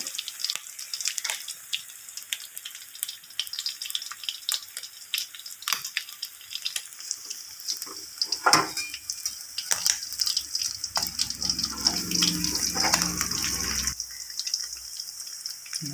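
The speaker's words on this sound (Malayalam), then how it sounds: "ചെറുതായി മൂത്ത് മൂത്ത് വരുന്നുണ്ട് നമ്മുടെ പച്ച സ്രാവ്" Pieces of green shark frying in a pan give a steady, faint crackling sizzle throughout, with a few sharper pops and a brief hissing surge near the middle.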